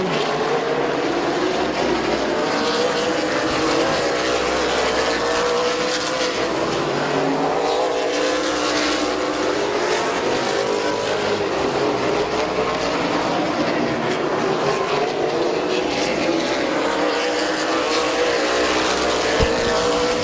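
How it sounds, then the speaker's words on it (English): Race cars battling at Midvale Speedway, a loud continuous engine roar with repeated rising and falling pitch sweeps as cars pass, filling the track with sound and no clear talk. "Good battle in the back of the pack as Gabe Jaber at 21 getting some seat time"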